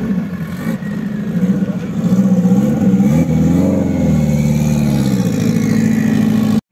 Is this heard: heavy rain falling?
no